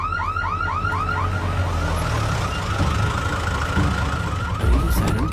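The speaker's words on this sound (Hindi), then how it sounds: "ये कैसी आवाज है? Siren sir." An alarm siren wails in fast, repeating rising sweeps, loud and continuous throughout, with a constant low rumble underneath.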